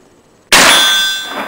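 A black powder bullet striking a steel target, one sharp loud metallic clang after silence, followed by a long bright ringing tail that slowly fades.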